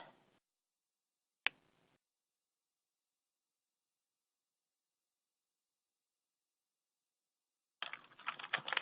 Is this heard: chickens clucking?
no